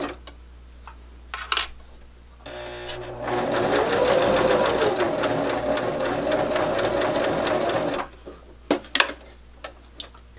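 A sewing machine stitches a fabric coaster in one steady, fast run of several seconds, between quieter clicks and handling noises before and after.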